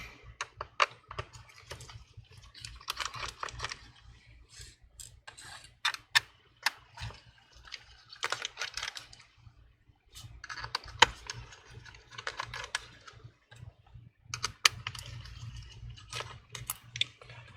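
A screwdriver backing screws out of the bottom cover of a MacBook Pro A1989 makes sparse, faint, close ticking clicks and small metallic taps, separated by quiet pauses.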